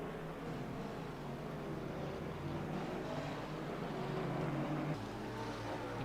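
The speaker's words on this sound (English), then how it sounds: "You can hear the McLaren in the background there as we watch the 27" A McLaren GT3 race car engine drones in the rFactor 2 racing game during a 4-hour GT3 race at Bathurst, a steady broad roar with shifting tone as cars pass, continuous and moderately loud.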